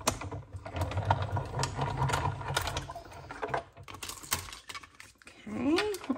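A die-cutting machine runs two branch dies through Early Espresso cardstock, giving a close, steady mechanical grinding and clicking that rises and falls in intensity over several seconds.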